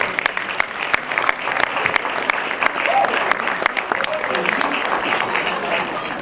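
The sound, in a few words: audience applause in a cinema hall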